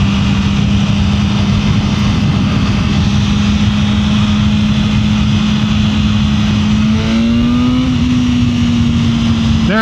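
A BMW M1000R M Competition sport motorcycle engine drones loudly and steadily close by, its pitch holding then rising slightly near the end as it accelerates under load with wind rush; no voices.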